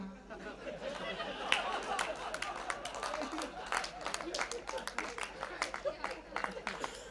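Scattered audience clapping at a Hindi poetry recital, quick uneven claps mixed with crowd chatter and someone talking, at moderate distance throughout.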